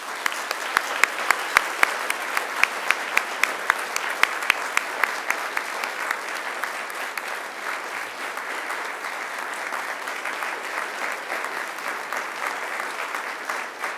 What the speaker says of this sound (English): join me in giving them an almighty round of applause